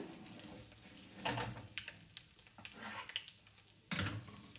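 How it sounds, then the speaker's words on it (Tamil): Mustard seeds and urad dal splutter in hot oil, a faint, busy crackle of sizzling with scattered louder pops and bursts, close and without talk. "நல்லா கடுகு உளுத்தம்பருப்பு பொரிஞ்சு வந்துடுது"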